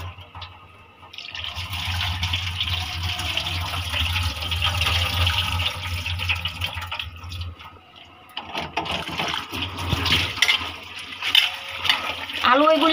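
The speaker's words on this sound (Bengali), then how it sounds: "আম্মা এখানে আলু ধুয়ে নিচ্ছে।" Potatoes are washed by hand in water at home, with continuous close splashing and sloshing, a brief lull partway through, then more swishing and trickling, and faint voices in the background.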